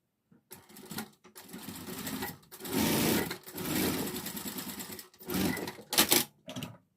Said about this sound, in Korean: 색동 가닥을 바느질 할게요.